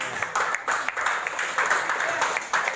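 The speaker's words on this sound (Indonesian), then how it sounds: "tepuk tangan dulu" Scattered clapping in a classroom after a group presentation, a thin, uneven patter of hands from a small group, fairly soft with a few louder bursts.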